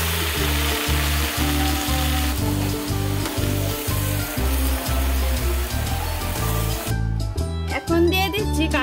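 Taro leaves (kochu shak) hit hot oil in a pan and fry with a loud, dense sizzle. Rhythmic stirring scrapes run throughout, and the frying sound thins out near the end.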